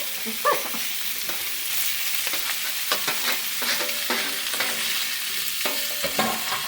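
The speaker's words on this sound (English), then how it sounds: "listen to that sizzle" Chicken pieces sizzle and crackle steadily in a hot frying pan, with occasional stirring clatters and no talking.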